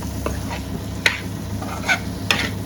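Mutton liver fries in a pan as slit green chillies, onions and curry leaves are stirred in, giving a steady low sizzle broken by three sharp scraping clinks of a spoon against the pan, with no talking.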